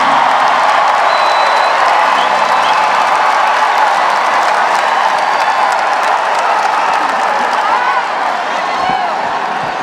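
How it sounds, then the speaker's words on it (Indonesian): A large audience at an Indonesian national solidarity declaration event claps loudly and continuously, a dense, sustained wash of applause with scattered cheers throughout. "kok tepuk tangannya paling keras nih"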